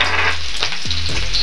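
Onion, ginger and garlic sautéing in hot cooking oil for a squash, long bean and crab stew, a loud close sizzle throughout with a few stirring scrapes.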